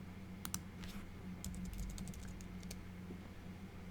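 Typing on a computer keyboard, with quiet clustered key clicks in short irregular bursts over a low steady hum, close and faint, with no voices.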